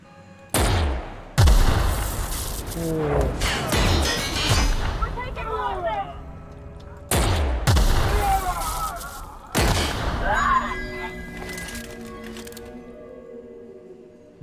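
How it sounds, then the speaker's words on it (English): In The Outer Worlds, a grenade launcher fires several times, and each sharp launch is followed by a heavy blast. The shots come in clusters with short gaps between them, with game noise and voice fragments mixed in. "Now we have a grenade launcher."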